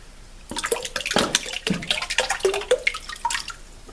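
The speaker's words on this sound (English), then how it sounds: "So I'm just going to pour in that Pulp." Paper pulp poured from a container into water inside a papermaking mold: a close, splashy run of pouring and dripping with several gurgling bursts over about three seconds, with no talking.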